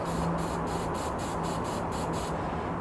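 Quick hissing bursts from a spray paint can repeat in a steady rhythm, about nine short sprays in a row, close and fairly loud over a constant background hiss.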